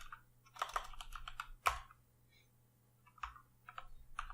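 Computer keyboard typing code, close and fairly quiet, with short bursts of clicky keystrokes separated by brief pauses and one sharper key press.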